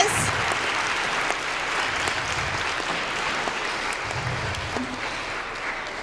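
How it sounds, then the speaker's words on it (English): Audience at an elementary school winter concert applauding, a steady, moderately loud patter of many hands clapping together that holds evenly from start to finish. "They deserve a round of applause."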